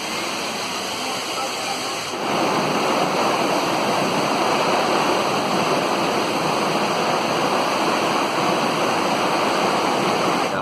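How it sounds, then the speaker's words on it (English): Waterfall at Silver Creek Falls deep inside a huge canyon, a steady, loud broadband roar of falling water that swells slightly after the first couple of seconds and then holds constant throughout, with no voices. "we are at Silver Creek Falls right now"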